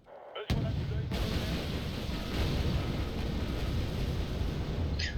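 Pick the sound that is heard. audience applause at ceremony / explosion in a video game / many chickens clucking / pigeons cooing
explosion in a video game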